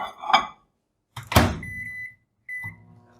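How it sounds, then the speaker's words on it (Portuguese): A microwave oven is used to melt white chocolate, with clunks of the door and buttons, sharp electronic beeps and a low hum of the oven running, all close up. "Então vou colocar lá no micro-ondas."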